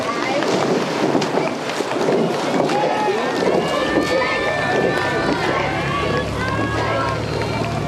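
Rowing crews push off the start of a women's race at Henley Royal Regatta, with oars churning water and a crowd roaring steadily outdoors. Wind noise and shouting blend in, and the sound stays loud and continuous throughout.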